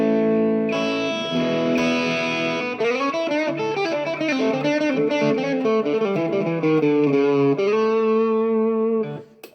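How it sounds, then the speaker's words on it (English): A crunchy, mildly distorted Squier Affinity Telecaster Deluxe on its bridge pickup plays a run of ringing notes and chords, bright and close, with no talking. "Here's the bridge pickup with the crunch tones."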